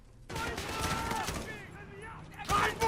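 Rapid gunfire bursts in a video game police chase, dense volleys of shots that fill most of the stretch and swell loudly again near the end, with a voice mixed into the chaos.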